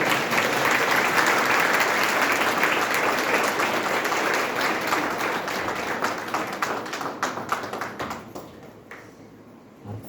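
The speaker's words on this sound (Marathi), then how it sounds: "जोरदार टाळ्या" An audience at a Ramdasi felicitation ceremony bursts into loud, sustained applause that gradually thins toward the end into scattered individual claps, with faint voices underneath.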